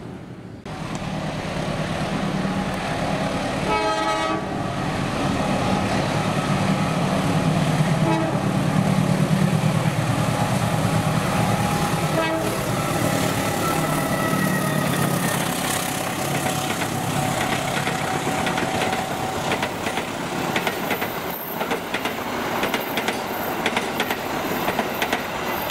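An Indonesian Argo Sindoro train passes near Bekasi Timur, a loud continuous rumble of cars with a horn toot early on and wheel squeal and clatter building toward the end, with no voices.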